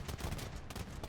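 Hand cannons firing in Age of Empires, a dense burst of overlapping gunshot cracks packed into about a second, loud and continuous with no talk.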